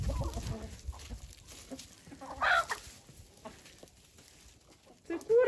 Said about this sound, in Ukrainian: Эти кури выпасаются просто в доме, в загоне.